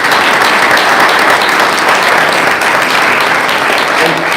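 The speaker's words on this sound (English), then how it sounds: "So we just give the REI team a round of applause." An audience at a climate-themed event applauds steadily, a dense, loud wash of clapping from a large crowd that holds evenly throughout.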